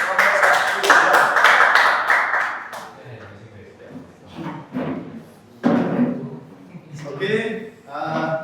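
Classroom applause for a teacher, a brief burst of many hands clapping close by for about three seconds, then fading into scattered knocks and people talking.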